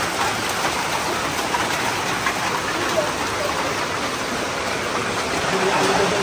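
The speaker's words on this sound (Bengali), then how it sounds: "সুন্দর একটা বৃষ্টির শব্দ পড়তেছে।" Steady rain falls outdoors in a hill village, a dense continuous wash of noise with faint voices murmuring underneath.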